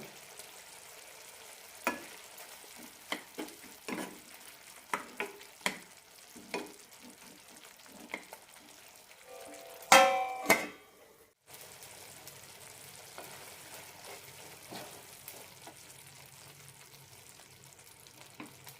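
Bitter gourd tamarind curry sweetened with jaggery simmers in a pan, giving a soft steady bubbling hiss with scattered clicks of stirring and a louder clatter partway through.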